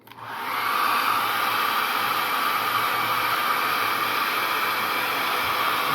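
A hair dryer blows onto a watercolor painting, switching on and then roaring steadily and loudly at close range with a broad airy hiss.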